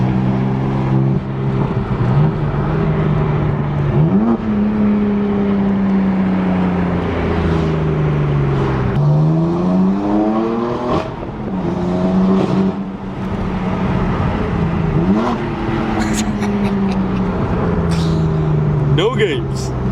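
A BMW M4 with a straight pipe exhaust revs loudly and repeatedly, pitch climbing and falling in rev-matched blips over a steady idle and drone, heard close up while people talk over it.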